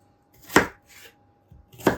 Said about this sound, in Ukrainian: Поріжу зараз цибулю